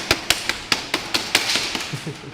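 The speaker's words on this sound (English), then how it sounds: "Beautiful hammer, look at the way it works." A hammer strikes repeatedly in a garage, about ten close, sharp blows in a quick uneven rhythm, each ringing briefly, with no talk.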